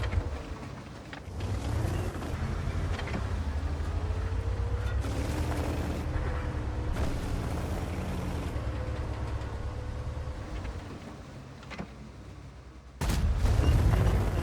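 Heavy tank cannon fire and booming impacts from a World of Tanks battle with a Panzer VII, steady rumbling low-end throughout, with a louder burst near the end.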